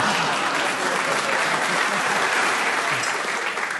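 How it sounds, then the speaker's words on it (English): A studio audience at a radio panel comedy show bursts into steady, dense applause, a continuous wash of many hands clapping close and loud. "the man himself is clapping"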